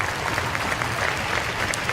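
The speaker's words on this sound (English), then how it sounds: "Big round of applause for Ivan Bjorkley Nordstrom" A crowd applauds at an ice hockey game, the clapping dense and continuous from a large arena audience, holding steady throughout.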